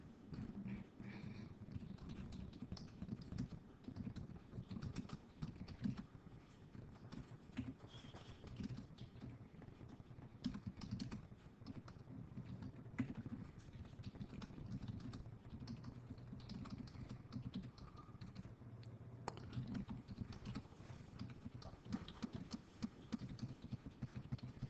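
Faint, rapid patter of keys on a computer keyboard, continuous and uneven, heard from a little distance with a low background hum.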